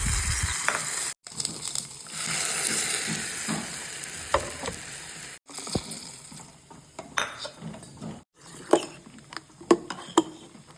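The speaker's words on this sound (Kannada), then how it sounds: "ಇಂಗು ಮತ್ತು ಕರಿಬೇವು ಸಾಸಿವೆ ಕಾಳು ಒಣಮೆಣಸು ಕೊಬ್ಬರಿ ಎಣ್ಣೆ ಎಲ್ಲ ಹಾಕಿ ಒಗ್ಗರಣೆ ಮಾಡ್ತೀನಿ" Asafoetida, curry leaves, mustard seeds and dry chilli tempered in hot coconut oil, a close crackling sizzle with sharp pops and spoon clinks against the pan, broken by short cuts.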